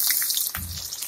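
Cumin seeds and chopped chilies hit hot oil and set off a bright, steady sizzle with a short splash-like burst midway, close and fairly loud throughout.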